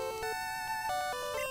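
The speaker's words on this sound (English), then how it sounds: "That's the sound of a metronome, yep." The Metronome move sound effect in a Pokemon video game: a short, quiet run of chiming electronic tones that steps up and down in pitch over about a second and a half, with no talk.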